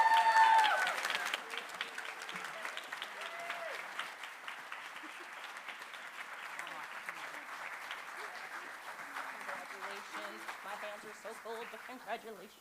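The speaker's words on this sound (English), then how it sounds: "Please give them a huge round of applause." Audience applause after a chorus award presentation at a school spring chorus concert, starting loud and settling into a steady, sustained clapping that runs throughout, with some voices mixed in.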